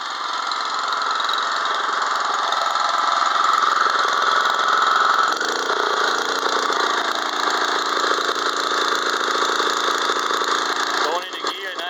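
A Honda HS80 snow blower engine runs steadily at a loud, close, even idle, its note shifting slightly partway through, with a short mechanical clunk near the end.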